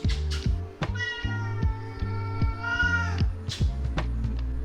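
A pet cat in a home in Goa meows repeatedly at close range, several drawn-out, rising and falling calls over a steady low background hum.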